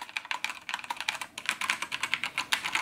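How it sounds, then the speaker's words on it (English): Keys clatter in quick, even typing on a Razer BlackWidow Chroma V2 keyboard fitted with Razer Yellow linear switches, a soft, close run of muted taps with no talk. "they don't make any noise when you're pressing the keys."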